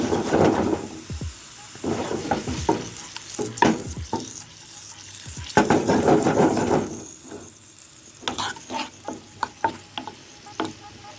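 A sugar, salt and liquid mixture is stirred in a hot pan, with scraping strokes over a steady sizzle that comes in bursts and then settles into sharper, scattered clatters near the end.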